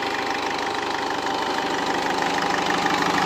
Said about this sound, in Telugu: ఇంజన్ సౌండ్ కూడా స్మూత్గానే ఉంది